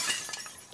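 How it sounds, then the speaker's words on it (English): Glass shatters in The Last of Us Part 2, a short, faint crunch of breaking panes with a few small clinks trailing off. "Yeah, I'm gonna break the fucking glass."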